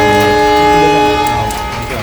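A train at Bellampalli railway station sounds a loud, close, sustained horn blast with a rich harmonic tone that fades slightly toward the end.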